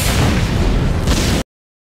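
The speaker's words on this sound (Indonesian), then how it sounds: "ledakan" A short, loud, dense blast of explosive noise lasting over a second, then cutting abruptly to silence.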